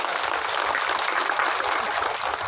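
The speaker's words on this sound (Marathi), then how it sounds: "आपण सुद्धा करूया टाळ्या वाजवून." An audience claps in a dense, steady burst of applause at a public felicitation event, continuous and fairly loud throughout.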